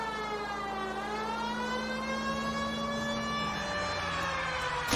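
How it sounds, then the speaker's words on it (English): A police car siren in L.A. Noire wails in a long steady rising and falling tone, loud and continuous over a low engine rumble, with no talking. "siren on so people stay well enough out of the way"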